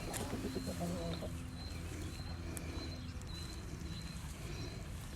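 Chickens cluck in short, quiet bursts near the start, with a faint high chirp recurring over a low, steady background hum.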